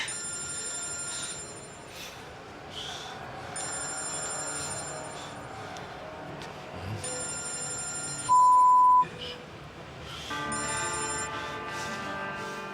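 A telephone rings in repeated electronic bursts with short pauses between them, clear and fairly loud indoors. A brief steady beep tone cuts in partway through, and no one speaks.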